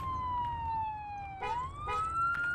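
Police car siren in the video game ARMA 3, a wailing tone sliding down then rising again, steady and moderately loud over a low rumbling background with no speech.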